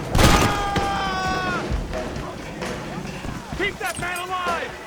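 High-powered pistol fire in a Red Dead Redemption shootout, a loud close burst of shots at the start followed by scattered rumbling impacts and crackle, with voices talking over much of the action.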